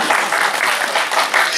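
Applause from an audience, a steady dense wash of many hands clapping at once, loud and close throughout the short burst.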